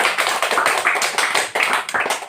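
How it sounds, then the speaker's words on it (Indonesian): A group of people clapping hands together during a group counseling session, loud and close, with brisk uneven claps running continuously for a couple of seconds. "Tepuk tangan dulu untuk kita semua."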